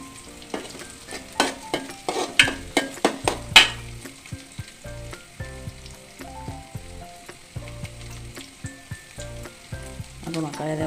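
Curry leaves crackle and fry in hot oil for a brinjal stir-fry, a run of sharp spattering pops and utensil knocks in the first few seconds, then a steadier sizzle with occasional stirring scrapes.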